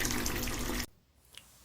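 Shower water runs in a Toca Boca game, a steady hiss that cuts off abruptly after under a second, followed by quiet with a small click.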